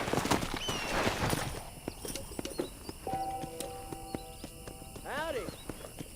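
Horse hooves clip-clop in the Red Dead Redemption video game on PS5, played live, a steady rhythmic clatter mixed with game ambience, musical tones and a brief whinny-like call near the end.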